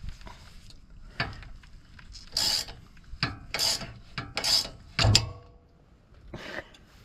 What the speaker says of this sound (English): Two 18mm wrenches to disconnect your sway bar end links.